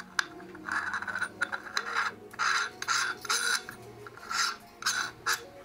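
A 12 mm T2 adapter is screwed by hand onto a ZWO 5-position electronic mini filter wheel for a telescope, giving a series of short, close metallic rasping and scraping bursts with brief pauses between turns.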